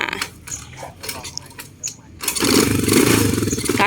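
A Honda 110 motor tricycle with a cargo bed being started, a few mechanical clanks and tries before the small engine catches and settles into a steady close idle, with someone talking at the start.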